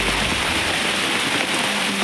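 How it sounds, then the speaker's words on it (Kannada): Heavy monsoon rain pours steadily onto a flooded paddy field during rice-seedling transplanting, a dense, unbroken hiss close around with no voices. "ಜೋರು ಮಳೆ ಸಹ ಬರ್ತಾ ಉಂಟು"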